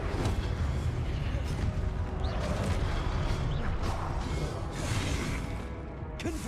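Incendio fire spell in Hogwarts Legacy, a sustained roaring, crackling burst with whooshing surges and scattered crashes, loud and continuous throughout.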